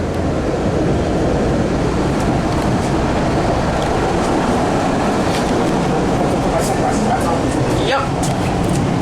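CRRC 1400 Orange Line subway train riding from Downtown Crossing to Oak Grove, a loud, continuous rumble and rushing roar of the car in motion with faint squeals, while people talk over it.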